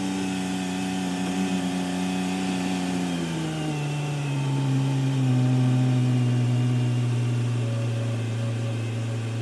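A car idling steadily with a low engine hum whose pitch drops partway through as revs settle, close and continuous with no talk, while a brake leak is being chased down.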